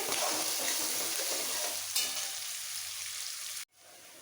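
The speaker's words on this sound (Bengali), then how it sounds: "পেঁয়াজটাকে খুব ভালো করে ভেজে নিতে হবে" Onions sizzling steadily in a hot pan with occasional stirring scrapes, close and continuous, ending in a sudden brief cutoff.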